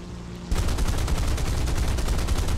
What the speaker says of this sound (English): Actually, it's flak.